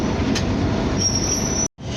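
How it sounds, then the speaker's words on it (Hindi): A train on a railway line near Jhang, bound for Karachi, rumbles past close by in a steady broadband roar, with a thin high wheel squeal running through the second half before a brief cut. "ये साथ वो ट्रेन अब आगे खड़ी हुई है, तो ये कराची के लिए रवाना हुई है"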